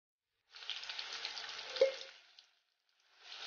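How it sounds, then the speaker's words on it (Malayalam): Jackfruit seeds deep frying in oil, a faint short burst of bubbling sizzle with a single small clink midway, then quiet before the sizzle starts again at the end, no talking. "ഇത് കംപ്ലീറ്റ് ഫ്രൈ ചെയ്തെടുക്കട്ടെ"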